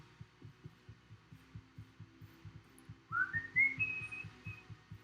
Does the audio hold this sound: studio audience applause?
no